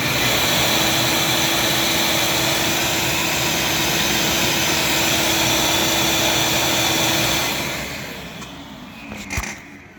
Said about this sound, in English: Let's look at the surge when we start the vacuum.